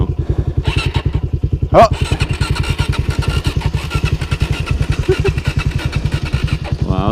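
2014 Suzuki DRZ400SM motorcycle that won't start, its electric starter cranking in a fast, steady, loud chugging rhythm for several seconds, with a brief exclamation from a man partway through.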